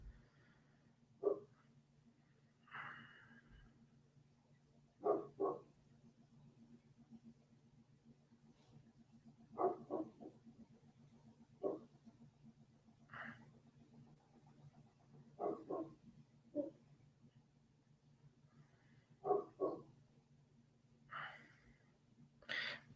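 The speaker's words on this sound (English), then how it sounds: "the dog's favorite thing to do is go out at midnight and bark at the owls." A dog on a large farm at midnight gives repeated barks and huffs at owls, spaced a few seconds apart, fairly faint and at a distance over a steady low hum.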